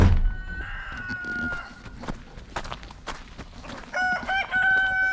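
Several roosters crow on a spring farm, long drawn-out calls at a moderate distance, then a louder, nearer rooster crows near the end over soft clucking and background chatter of the flock.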